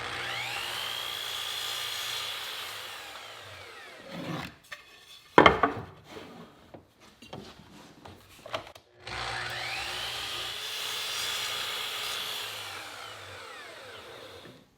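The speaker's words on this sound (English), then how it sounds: "I've set up a stop block and set the miter saw at 45 degrees, and I'll put a slight chamfer on each edge." A miter saw set at 45 degrees chamfers the edge of a wooden board: two long, loud whining runs of the spinning blade frame a stretch of close clattering and knocking as the board is handled.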